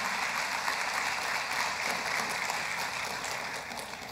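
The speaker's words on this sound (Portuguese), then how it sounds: "Isso merece um aplauso, irmãos" Church congregation applauding during a worship service, a steady broadband wash of clapping that holds evenly for several seconds and tapers slightly near the end.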